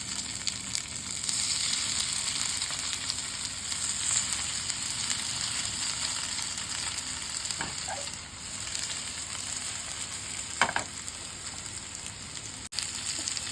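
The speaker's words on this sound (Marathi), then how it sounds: "आता आपण त्यामध्ये ह्या आपल्या ज्या काड्या आहेत त्या फ्राय करून घेणार आहोत" Chicken sticks, kandi chicken, fry in heated oil, giving a steady, loud crackling sizzle throughout with a few brief clinks and pops, no voices.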